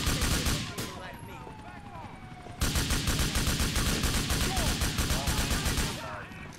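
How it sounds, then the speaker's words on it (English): Rapid bursts of automatic gunfire rattle through a GTA IV police shootout, a steady loud machine-gun stream with a brief pause before the firing resumes. "We're just having an epic shootout session today, ladies and gentlemen."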